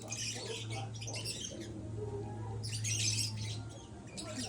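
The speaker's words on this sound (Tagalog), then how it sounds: "Maingay yung ibon." Noisy pet birds chirp and squawk in repeated bursts over a steady low hum, fairly faint and with no talking.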